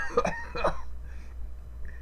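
A narrator's voice imitates a hacking cough during a reading of Poe's The Cask of Amontillado: two short, harsh, close bursts about half a second apart, followed by a quiet lull.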